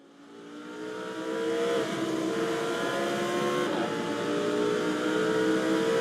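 A field of race cars launches at the start of a Lamborghini race at Circuit de Barcelona in Montmeló, Spain, with engines swelling from a low rumble into a sustained, rising roar.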